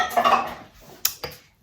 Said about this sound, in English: And in goes the grated courgette.